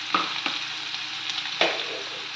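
Ginger, garlic and green chili sizzle in hot oil for a prawn fry, a steady bright hiss with a few sharp stirring scrapes, close and alone.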